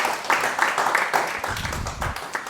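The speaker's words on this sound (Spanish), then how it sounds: "Dale un aplauso a Jehová, santo." A church congregation claps during a sermon, giving a dense, lively patter of hands that is loud and close, with voices faintly mixed in underneath.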